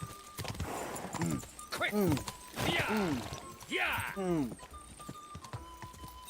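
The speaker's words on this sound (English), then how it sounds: "Oh, this horse has no willpower." Horse in Kingdom Come: Deliverance 2, hooves clip-clopping in quick rhythm with snorting and whinnying, heard beneath excited shouting voices.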